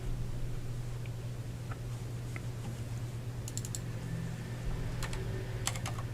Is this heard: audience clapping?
no